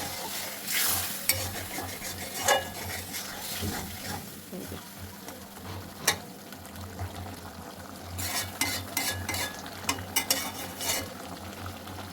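Chicken fries in a pan for a homestyle chicken curry with potatoes, sizzling steadily while a spoon scrapes and stirs it in irregular clinks and scrapes, with little talk.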